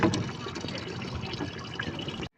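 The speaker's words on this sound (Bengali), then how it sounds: "পানিটা ভরে গেলে বন্ধ করে দাও" Water runs steadily into a container being filled at home, a continuous splashing, bubbling rush up close that holds at an even level for a couple of seconds before stopping abruptly.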